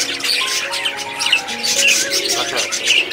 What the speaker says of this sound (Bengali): এই পাখিগুলো প্রায় 200 পাখি আছে বাচ্চা সহ